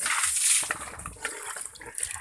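Water splashes and pours as hogs are bathed in their pen, a close, hissing rush that eases into softer, uneven splashes.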